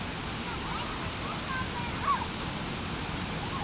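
The waterfall at Vogel State Park gives a steady, broadband rushing roar that fills the whole stretch evenly, with faint voices in the background.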